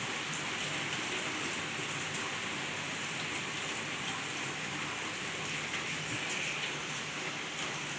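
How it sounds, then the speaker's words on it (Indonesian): Steady rain pours down in a dense, even hiss that fills the whole stretch without a break, with no voices over it. "Udah hujan lagi."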